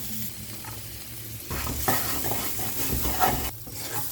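A vegetable refogado frying in a skillet for a creamy pan pamonha, with a continuous sizzle that grows louder midway and scraping stir strokes, heard close with no talking.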